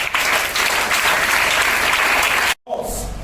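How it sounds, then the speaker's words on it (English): A group of students claps together at a school assembly, a dense, steady patter of hands that stops abruptly near the end before a brief burst resumes. "Clapping."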